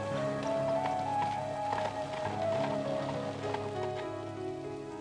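Steady rain falls on a surface with a soft continuous patter, mixed with a low tonal hum and music-like tones underneath, no voices.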